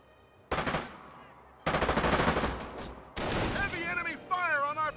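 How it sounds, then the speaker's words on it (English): Heavy gunfire in Company of Heroes comes in three loud bursts of rapid machine-gun and rifle shots, each starting abruptly, with a whistling, wavering tone riding over the final burst. "Heavy enemy fire on our position!"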